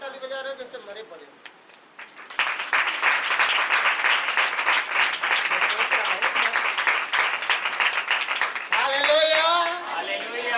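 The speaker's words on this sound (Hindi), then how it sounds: "ऐसे ताली बजा रहे जैसे मरे पड़े।" A church congregation breaks into sustained, loud rhythmic clapping that fills most of the stretch, with a preacher's voice speaking before and after the applause.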